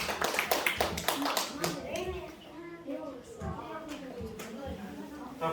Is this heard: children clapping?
yes